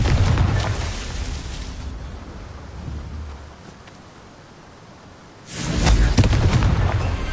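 Loud booming blasts from the Confringo blasting spell in a Harry Potter video game, a heavy rumbling explosion that fades into a low tail before a second forceful burst.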